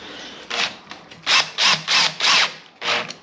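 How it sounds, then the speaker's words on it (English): A power drill pre-drills pilot holes in solar panel mounting brackets on a caravan, five or six short bursts of high whirring, each about a quarter second, with brief pauses between, close and fairly loud. "So we'll pre-drill the brackets, drill the pilot hole"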